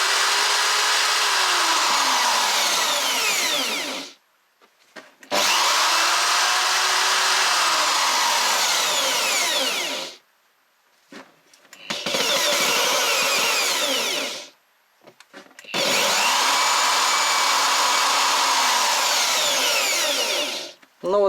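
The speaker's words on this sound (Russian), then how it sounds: "Сейчас я запущу дрель на максимуме" A corded electric drill runs through a 220 V, 3 kW power regulator, whining loudly at high speed in four long bursts, each spinning up and then cut off, with brief quiet gaps between.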